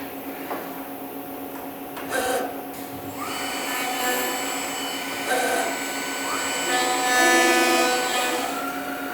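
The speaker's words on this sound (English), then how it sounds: "I'm going to go over, hit start sequence," Commander 3 hinge machine cutting a hinge pocket in a door jamb, a steady high-pitched routing whine with clunks and knocks as the cycle starts, close and fairly loud.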